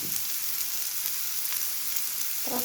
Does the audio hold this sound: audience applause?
no